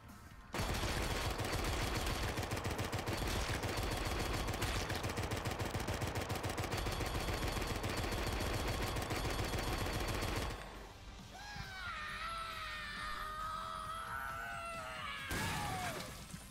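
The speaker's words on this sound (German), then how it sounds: "Schieße auf den Zauberstein der Hexe." Rapid gunfire from the game Drawn To Death hits a witch's magic stone in a long, loud, relentless stream of shots. It then drops to softer crashes and shrill effects, with a final burst near the end.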